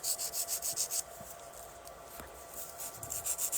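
A fingernail being filed with a nail file during nail art work, rapid rhythmic rasping strokes close up, pausing briefly in the middle before resuming.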